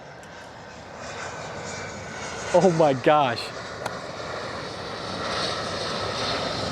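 Fixed-wing airplane engine droning overhead near an airport, a steady broad roar that swells toward the end, with a brief burst of excited talk in the middle.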